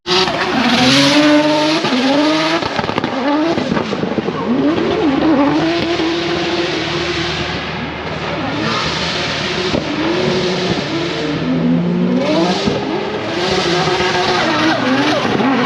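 A team's new drift car skids continuously with screeching tires and a revving engine rising and falling, loud and close throughout with no pauses.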